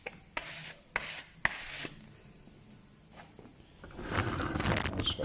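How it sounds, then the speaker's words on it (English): Hand sanding of car bodywork on a Ford Focus under repair, heard as a few sharp scraping strokes followed by steadier, louder rubbing close to the mic. "So I'm just going to sand all this down,"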